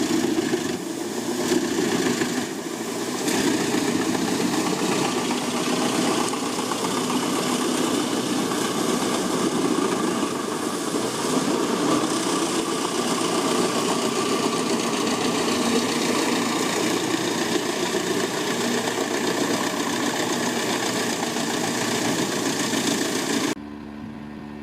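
A wood chipper's engine runs at a steady, even drone for a long stretch, loud and close with a faint rattling edge, then cuts off abruptly at the end.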